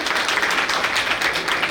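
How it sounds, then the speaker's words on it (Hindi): Audience at a community gathering clapping to welcome a guest on stage, a dense continuous patter of many hands at moderate loudness throughout. "प्रवीण जी वैष्णव का स्वागत है, तालियों से सभी हम करेंगे।"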